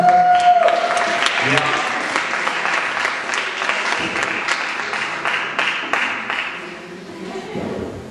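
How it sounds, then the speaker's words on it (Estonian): A crowd at a school Bond night event in Viimsi applauds steadily for several seconds, dense clapping that holds fairly loud and then tapers slightly toward the end. "Aplaus Kristelile."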